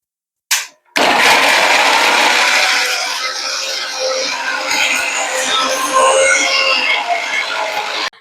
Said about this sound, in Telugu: ఇప్పుడు నెక్స్ట్ అల్లాన్ని అయితే మిక్సీ పట్టేస్తున్నాను